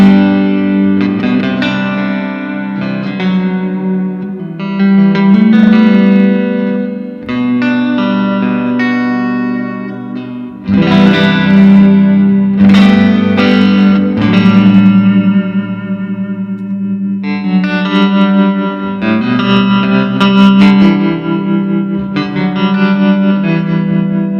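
An electric guitar plays sustained chords and notes through a Fender 1967 Super Reverb amp, each one washing out into a long, lingering reverb tail with no talking.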